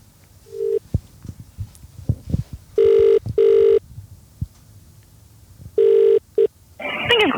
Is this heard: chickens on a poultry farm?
no